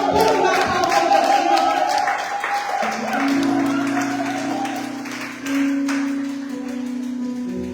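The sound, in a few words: church congregation applauding and cheering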